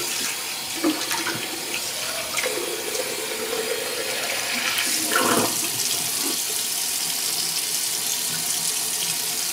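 Tap water runs steadily into a sink to rinse a razor during a shave, a close, continuous splashing stream with no voices.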